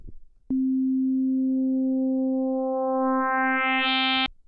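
A steady pure FM synthesizer tone holds, then grows brighter and buzzier as modulation increases and rising overtones pile up, before stopping sharply.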